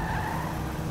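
Car tires skidding in GTA Online, a steady screech held across the whole short moment, fairly loud with no talk over it.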